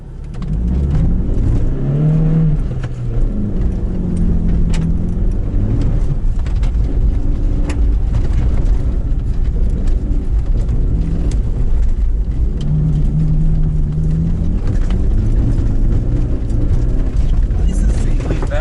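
Rallycross car on a field recon run, its engine droning loud and close with rising and falling revs and gear changes, while people talk inside over the steady roar.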